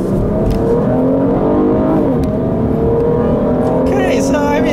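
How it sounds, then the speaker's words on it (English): A 2015 Jeep Cherokee Trailhawk V6 in sport mode accelerates hard, its engine note climbing steadily and loudly throughout, with a brief bright whir near the end. "We'll put it into sport mode. It takes a second for the mechanical stuff to switch around. And so, yeah, let's see how this power is."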